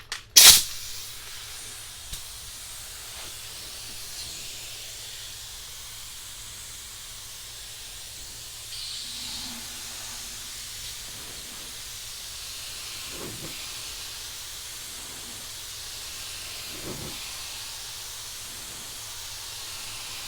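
Spray gun laying down Oriental Blue candy paint in a tape-fade pattern over chrome flake, a steady soft hiss running throughout with faint brief bursts, no talking.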